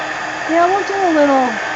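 A hair dryer blows a steady, airy hiss onto a mixed media altered book page, running close and continuous while someone speaks over it.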